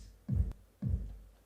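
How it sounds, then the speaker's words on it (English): Soft kick drum in a beat mix, two muffled low thumps about half a second apart, quiet and rounded, heard on their own. "So here we have the soft hard kick."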